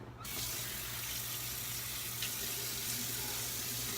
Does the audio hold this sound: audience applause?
no